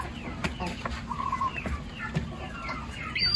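Shamo chickens on a farm give soft, scattered clucks and short calls over a steady low background, with a brief flutter near the end.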